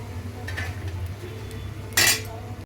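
Fried potato peels are moved out of a pan onto a plate, giving a few soft scrapes followed by one brief, louder metallic clink near the end over a steady low kitchen hum.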